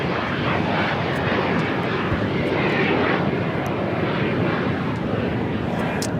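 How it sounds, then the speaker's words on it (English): Japan Airlines Boeing 787-8 Dreamliner arriving at Los Angeles International Airport, a steady, loud broadband jet roar that holds throughout without letting up. "Looks like that Japan Airlines Dreamliner heading into the southwest corner of Tom Bradley."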